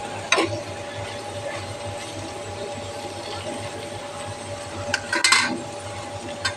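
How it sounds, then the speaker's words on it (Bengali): Food frying in a pan is stirred gently, with a steady sizzling hiss under a low hum and a few brief scraping clatters of the utensil against the pan near the start and end. "এই দেখো হালকা করে এবারে নাড়িয়ে দেবো"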